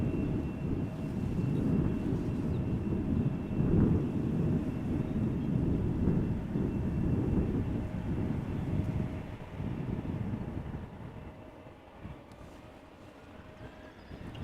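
An Embraer 190 airliner takes off outbound to Basel from Amsterdam Schiphol, a steady broad roar of jet engines that holds strong for about ten seconds and then gradually fades into the distance.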